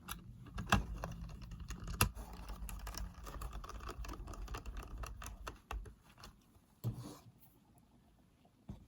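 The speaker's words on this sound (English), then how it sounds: "Let me get the screws back in." Small screws driven back into the plastic case of a Sanyo M-GR66 personal radio cassette during reassembly, heard up close as a busy run of light ticks, scrapes and clicks with a few sharper knocks and no talking.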